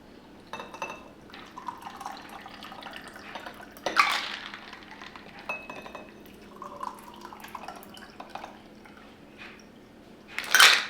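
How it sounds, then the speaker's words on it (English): Liquid is poured into a glass over pomegranate seeds, soft trickling and dripping with light glass clinks, quiet and close, ending in a brief louder splash. "I'm gonna pour this in like so, like this."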